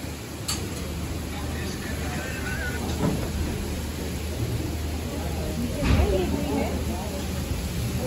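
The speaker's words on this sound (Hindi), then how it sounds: "बहुत ज़्यादा तेज़ बारिश हो रही है बहुत ज़्यादा" Heavy, sudden rain keeps up a steady, even hiss throughout, with occasional faint ticks and taps of drops striking nearby surfaces.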